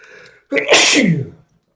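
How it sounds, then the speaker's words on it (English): One loud, close sneeze bursts out sharply and trails off, following a brief moment of quiet talking. "I just sneezed."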